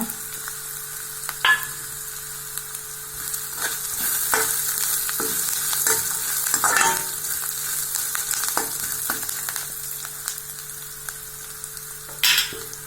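Curry leaves fry in hot oil in a pan with a continuous close sizzle, punctuated by occasional clinks and scrapes of stirring, with no voices.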